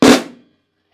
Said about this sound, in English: And then we're going to flam.